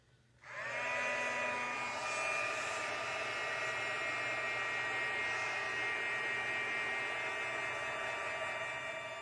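A heat tool switches on and blows steadily to dry Stampin' Up lacquer-effect embellishment, a sudden start after a moment of quiet, then a continuous high whining hum with a rushing airflow, close and unbroken.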